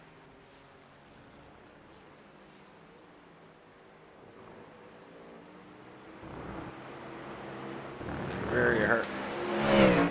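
Rumbling V8 race car engine heard from inside the cockpit during a Road Atlanta road race in the RGR Winston series, a steady drone that swells louder toward the end, with a brief voice over it.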